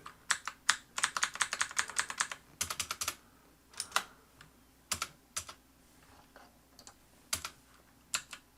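Someone types on a computer keyboard in quick bursts of clicking keystrokes separated by short pauses, close and clear with no talking.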